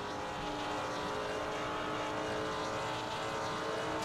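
Several race cars battling closely at Imola in Gran Turismo 4, a Maserati slipstreaming behind a Porsche; a steady, dense engine drone with layered high whine, loud and continuous throughout.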